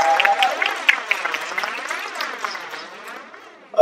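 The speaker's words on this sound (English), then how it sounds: "please give a round of applause for her as well" Graduation audience clapping together in a hall, a dense patter of many hands that swells briefly and gradually thins out, with no one talking over it.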